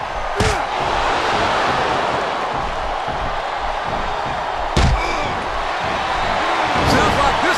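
Wrestling arena crowd roaring steadily in Smackdown vs RAW 2007, with loud slams and thuds from the ring cutting through at intervals.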